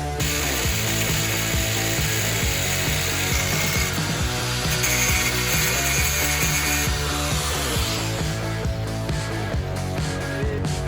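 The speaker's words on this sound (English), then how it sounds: "I'll cut these off, and then what do you say, we bolt the shock up?" A Fox 2.5 rear shock is bolted onto a Toyota Tacoma with a loud, continuous rapid ratcheting, like a power tool running close by for the whole stretch.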